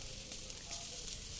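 Blended spices and leaves fry in vegetable oil in a wok, a soft steady sizzle with a faint hiss, fairly quiet and brief.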